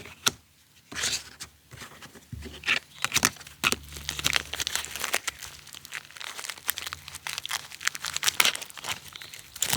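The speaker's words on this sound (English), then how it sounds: "In here, we have a Mylar blanket, emergency blanket." A Mylar emergency blanket from a personal survival kit crinkling and rustling close by, with sharp irregular crackles and rapid crunching bursts throughout.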